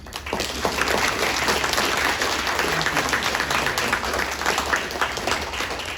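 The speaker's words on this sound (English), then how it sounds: "could we please give a round of applause to our wonderful Comic-Con volunteers?" Audience at a Comic-Con panel applauding the volunteers, a loud, dense, sustained roar of clapping from a large crowd that continues evenly throughout.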